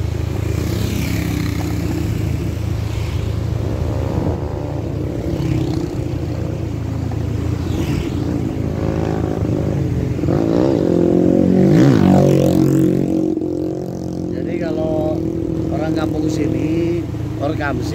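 A motorcycle engine on a mountain trail to Mt. Burangrang runs continuously with a loud, rough exhaust, revving up and down, with speech heard over it.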